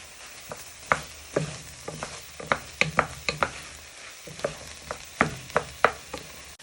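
Tomatoes stirred around a pan for Hungarian beef goulash, a faint sizzle under a steady run of sharp spoon scrapes and knocks against the pan, close and irregular, no speech.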